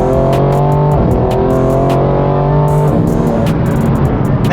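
A tuned, high-mileage BMW M4 Competition engine revs loud and close, its steady drone rising and falling across several throttle blips with a sharp crackle up top.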